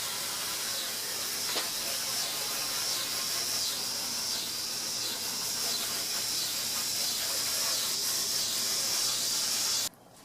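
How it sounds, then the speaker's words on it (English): Water spray rinsing POR15 prep off the body of a 1956 Ford, a loud continuous hiss with small fluctuations as the stream moves, cutting off abruptly at the end. "So now we need to rinse this off."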